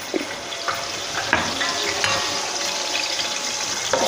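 Cardamom, cinnamon, ginger and garlic fry in hot oil for a biryani tempering, a loud close sizzle with crackling pops and scraping stirs scattered through.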